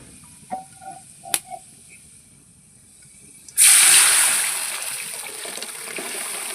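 A few small clicks come first, then dal meets spices tempered in hot oil with a sudden loud sizzle that slowly settles into a steady hiss.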